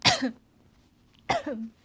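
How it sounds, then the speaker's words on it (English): Two sharp, close coughs about a second apart, each ending in a short rasp, with quiet room hum between them. "First I'm like sniffing, and then now I'm coughing."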